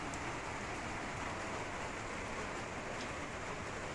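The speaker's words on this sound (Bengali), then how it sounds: "রাত থেকে প্রচুর বৃষ্টি শুরু হয়েছে" Heavy overnight rain pours steadily on an outdoor fishing spot in rural Bengal, a dense, even hiss that stays constant and fairly loud throughout with no voices.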